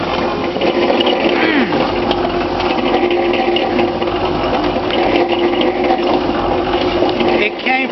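A Harbor Freight milling machine cuts incinerated chips, producing a loud, steady mechanical whir and grinding hum that runs without a break, with faint shifting tones throughout.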